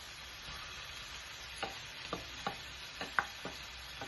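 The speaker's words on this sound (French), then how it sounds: "Je vais rajouter un peu de riz" Cooked rice being stirred into a beef mince filling for cigars, soft scraping spoon strokes in a pan, a handful of short irregular swipes over a faint background hiss, close and quiet.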